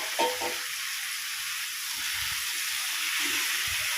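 Lote fish dropped into a pan of frying, melted tomatoes, giving a steady broad sizzle and hiss with a few soft stirring knocks.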